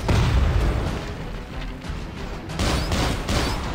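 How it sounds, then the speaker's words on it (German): A grenade blast in the Robocop 2014 video game, loud dense rumbling explosion with crackling gunfire around it, close and sustained across the short stretch, swelling again near the end. "Oh, Granate."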